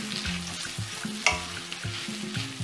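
Mixed peppers and spring onion stir-frying with Indomie noodles in a hot pan, a steady close sizzle broken by rhythmic scraping and tossing strokes and one sharp clatter midway.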